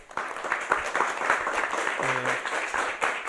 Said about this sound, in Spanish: Les pido por favor que nos ayuden con un aplauso para el doctor